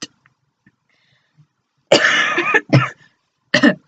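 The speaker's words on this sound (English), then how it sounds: "cough." After a near-silent stretch, a person coughs close by: one longer rough cough followed by two short sharp ones.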